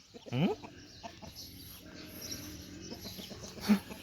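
Farm chickens cluck nearby with a sharp rising call early on and scattered clucks and a brief squawk later, over quiet morning garden ambience.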